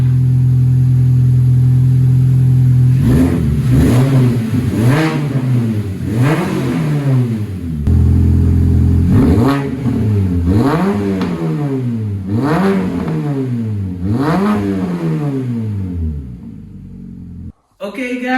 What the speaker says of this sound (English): the Mini sounds a little bit racy. Unfortunately a big part of the exhaust muffler got lost